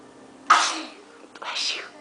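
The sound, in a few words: child sneezing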